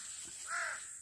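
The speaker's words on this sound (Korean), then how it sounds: "까마귀 소리들이 아주 머리 위에서" A single crow caws briefly overhead in the mountains, faint and distant over a steady hiss of outdoor ambience.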